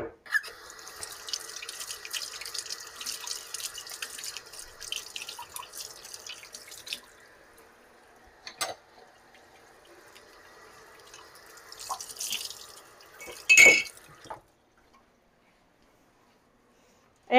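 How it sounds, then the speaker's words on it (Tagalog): A kitchen sink faucet runs steadily for several seconds while hands are washed beneath it, followed by quieter splashes and a brief burst of water before the tap shuts off into near silence. "Hugas kamay muna tayo."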